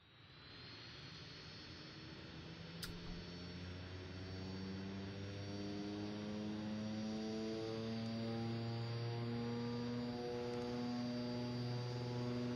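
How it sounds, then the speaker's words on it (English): Turboprop engines of a DHC-6 Twin Otter 300 in the X-Plane 11 flight simulator spool up from quiet into a steady, rising drone with layered tonal hum, growing louder and holding strong throughout, with no talking. "Are you already turning on engines?"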